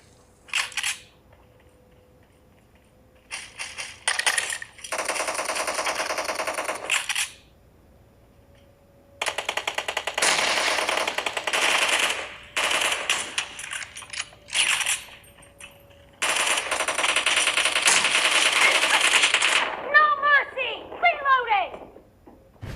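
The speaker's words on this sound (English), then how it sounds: "let's check out some gameplay on PUBG Mobile" Rapid bursts of in-game gunfire during PUBG Mobile played on a Xiaomi Mi 11, coming in several sustained volleys separated by short pauses, with mechanical clicks near the end.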